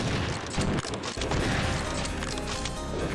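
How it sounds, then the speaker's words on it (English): Doom II combat: a dense, noisy barrage of shotgun blasts and crashing impacts aimed at the Spider Mastermind, loud and nearly continuous. "we'll use a shotgun on her and her babies too"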